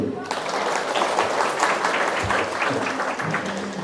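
Crowd applause at a public gathering of residents in Dipasena, a burst of many hands clapping throughout, with voices and chatter mixed in under the clapping.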